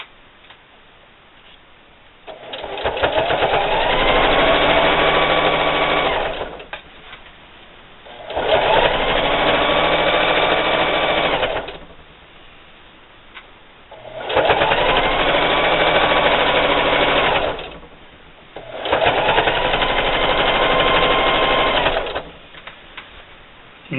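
A sewing machine stitches down the last flap of a spring table topper seam, running in four steady bursts of a few seconds each with short quiet pauses between them, close and loud.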